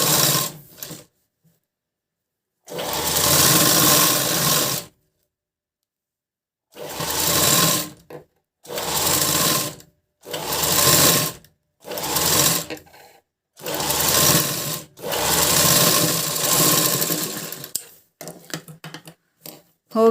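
A sewing machine stitches the front and back of a blouse in repeated bursts of rapid whirring, each run lasting a second or two and separated by silent pauses, ending in a few quick short stitches.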